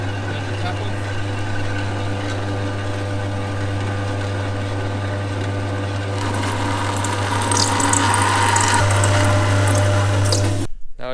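Saw cutting pipe while a water tap runs, a steady mechanical hum joined by rushing water and a louder grinding cut toward the end, close and continuous.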